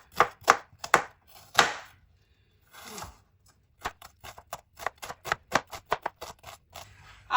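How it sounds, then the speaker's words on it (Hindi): An onion is chopped into small pieces with a knife on a board, with a few separate loud cuts, a brief pause, then a quick rhythmic run of close, crisp chops. "एक यहाँ पे मैंने प्याज लिया, इसकी कटिंग करेंगे। इसकी कटिंग बिल्कुल आपने छोटी छोटी काटनी है।"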